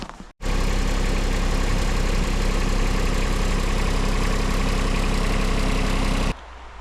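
A John Deere tractor with a heated cab runs steadily while plowing snow on a tar and chip driveway, a loud, even engine drone that holds for several seconds, then cuts off abruptly.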